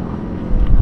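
A green Mustang accelerates and passes close by, its deep, loud engine rumble swelling in the second half amid wind buffeting on the microphone.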